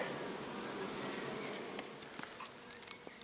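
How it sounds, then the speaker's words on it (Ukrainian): Honeybees hum steadily from unmown gardens right beside an apiary, a dense continuous buzz with a few individual bees passing closer. "А в некошених садах зовсім зовсім поруч з пасікою гудуть бджоли"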